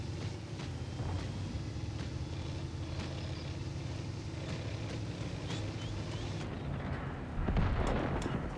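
A Kanonenjagdpanzer 2 tank destroyer in World of Tanks fires its cannon once near the end, a sudden loud boom rising over a continuous low rumble of engine and battlefield noise.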